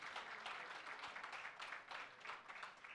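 Audience applause at a university Vice-Chancellor's Excellence Awards ceremony, a continuous, even clatter of many hands heard faintly from a distance with no speech.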